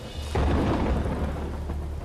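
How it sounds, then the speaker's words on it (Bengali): A deep, loud rumble of thunder rolls in during a thunderstorm, swelling sharply after a brief lull and sustaining over a steady wash of rain, with no voices present. "বিদ্যুৎ চমকাচ্ছে, আর তারপর ঠিক যেন আমাদের সত্যিটা আবিষ্কার করা আটকানোর জন্য আকাশের দরজা খুলে যায়"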